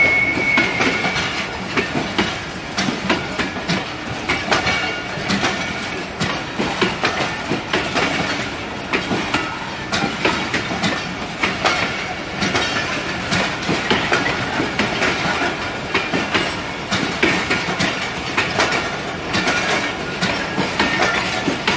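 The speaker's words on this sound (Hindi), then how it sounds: "Park business 33 up arrival eight Lahore railway station, beautiful view and track sound." Pak Business Express passenger train rolls into Lahore railway station, with continuous loud clickety-clack of wheels over track joints and rumbling carriages passing close by throughout.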